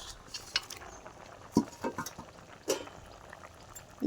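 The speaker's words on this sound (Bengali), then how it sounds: "এখানে কিন্তু আমার তরকারিটা ভালো করে ফুটে গেছে" Fish curry simmering in a pot: soft bubbling at low level, broken by several sharp clinks and knocks of a utensil against the pot, with no talk.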